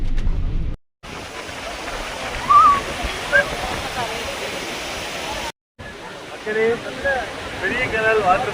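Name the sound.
large waterfall near Munnar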